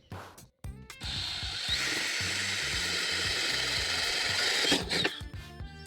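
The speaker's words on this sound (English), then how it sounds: "So we need to drill a hole back here, probably right there." A power drill boring a hole in a golf cart body to mount a display for a 48V lithium battery upgrade. It runs as one steady, loud, close whine of about four seconds, with brief handling noises before and after.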